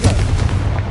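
A Confringo fire spell detonates in Hogwarts Legacy, a loud, close, booming burst that fills the moment with a dense, rumbling crackle.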